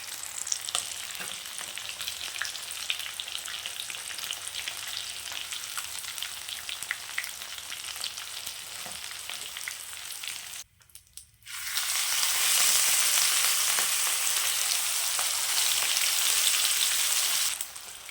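Rohu fish sizzles and crackles loudly in a frying pan, a dense steady hiss that cuts out briefly near the middle, then returns even stronger.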